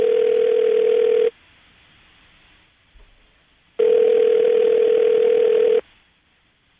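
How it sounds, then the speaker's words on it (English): A telephone call rings out on the line: two long, steady electronic tones separated by a stretch of near silence, clear and close. "I'm going to dial the phone number right now"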